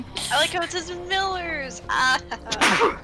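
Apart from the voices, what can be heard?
sneeze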